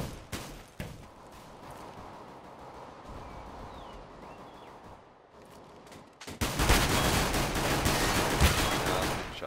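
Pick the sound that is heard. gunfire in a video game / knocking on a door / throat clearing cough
gunfire in a video game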